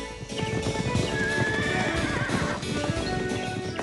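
Horses neighing and whinnying close by while their hooves clip-clop in an uneven rhythm, loud and continuous over a few seconds with no talking.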